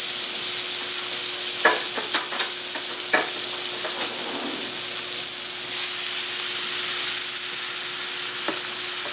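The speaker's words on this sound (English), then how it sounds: "I'm going to throw in our onion and red chili pepper mixture. Let's give that a nice quick saute" Onion and red chili pepper mixture sautéing in melted butter in a pan, a loud, steady sizzle punctuated by several sharp utensil taps and scrapes, with no talking.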